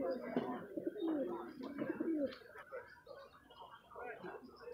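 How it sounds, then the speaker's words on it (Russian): Pigeons coo in a busy outdoor market on a hot morning, a cluster of soft throaty calls at moderate distance mixed with people talking. "Сегодня голубей красивых много разных."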